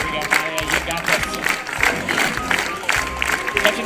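A street audience in Edinburgh claps in a steady, even rhythm for a bagpiper juggling on a unicycle, with crowd noise underneath.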